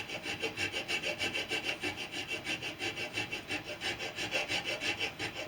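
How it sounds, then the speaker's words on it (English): A hand file cuts across a steel replacement blade for loppers in steady back-and-forth strokes, a harsh rhythmic rasp repeating about four times a second, close and continuous with no talking. "the file is definitely cutting it, isn't it?"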